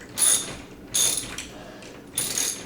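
Ratchet wrench clicking as lag bolts are tightened on a TV wall mount bracket, three short bursts of close, sharp ratcheting separated by brief pauses, with no talking.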